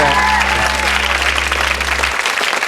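Steady studio audience applause on a quiz show, loud and even for under three seconds, with a low hum underneath that stops near the end.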